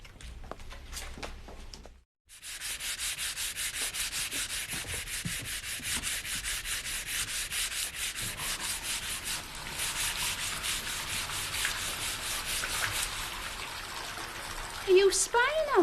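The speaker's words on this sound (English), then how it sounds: "I'm just rubbing wood down while I wait for my undercoat to dry" Steady, close scraping of wood being sanded down by hand, rhythmic back-and-forth strokes running on continuously after a brief pause, with faint talk in the background at first.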